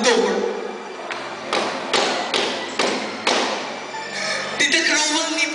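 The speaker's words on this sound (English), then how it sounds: "But one evening, 5 loud knocks were heard on the door." Five loud knocks on a door land in a slow, evenly spaced series, each a heavy, close thud ringing out into a reverberant room under a wash of dramatic background music.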